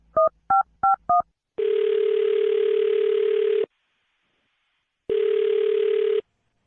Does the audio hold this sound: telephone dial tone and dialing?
yes